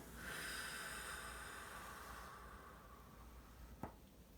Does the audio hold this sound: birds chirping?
no